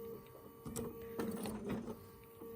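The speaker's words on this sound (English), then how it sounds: "I'm gonna start with just one little back stitch" A home sewing machine at a 2.5 stitch length makes one short back stitch while piecing raw-edge appliqué for a quilt, a brief mechanical whirring burst that stays close and moderately loud.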